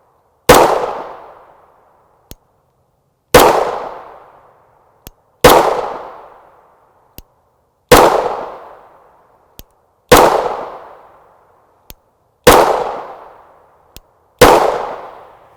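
A 9mm pistol fires Speer Gold Dot 124-grain rounds outdoors: seven loud, sharp cracks spaced about two seconds apart, each ringing off in a short decay, with faint small clicks between shots.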